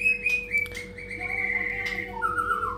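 A white-rumped shama, a murai batu of the F4 line kept as a competition songbird, sings a run of clear whistled phrases, bright and near, with a steady low hum running beneath.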